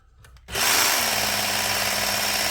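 A Work Sharp Ken Onion belt sharpener spins up with a click and then whirs steadily and loudly while a knife edge is drawn across the belt in a single continuous pass.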